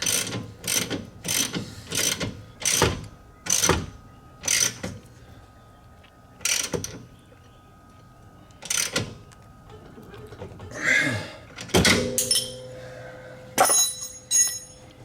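A ratchet wrench snugs the top bolts of a Honda Pioneer 700-4 front shock during an upgrade to 1000 shocks: repeated bursts of close, loud ratcheting clicks, with pauses between strokes and some clanking of metal parts toward the end.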